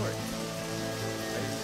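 Steady rain pours in the video game Deadly Premonition, a dense continuous patter over faint game ambience and low tones, close and even for the whole moment.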